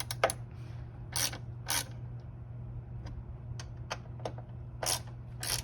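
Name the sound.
tightening button head Allen bolts on a rack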